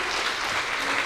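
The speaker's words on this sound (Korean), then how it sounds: "최선을 다해 싸워준 몽크 선수께 큰 박수 부탁드리겠습니다" An audience applauds fighter Monk after his fight at a combat sports event, a dense, steady wash of clapping that fills the whole moment without a break.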